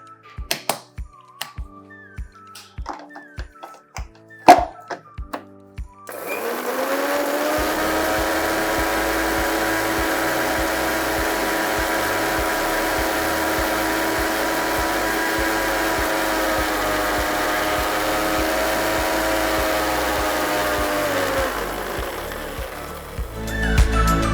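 A mixer grinder grinds poppy seeds with coconut milk, whirring steadily at high speed for most of the clip, preceded by a few sharp taps and clicks, then spins down near the end.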